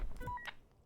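Brief electronic phone tones from a fishing video game sound as a few short beeps. One clear steady tone sits in the middle, and a faint sound like a voice follows at the end.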